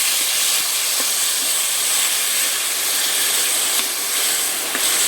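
Water poured over hot fried spices such as coriander powder in a pan bursts into a loud, steady steam hiss that fills the whole stretch without letting up, with no voices.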